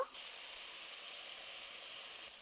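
Kulekhara greens and potatoes fry in a hot pan with salt, giving a steady, even sizzle that holds close and constant throughout with no voices.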